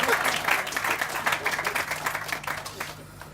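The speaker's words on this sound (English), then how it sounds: "So please give them a big round of applause." An audience at a press event for the launch and naming of a tunnel boring machine claps in a dense, loud burst of applause. The clapping rolls on steadily, then thins and fades near the end.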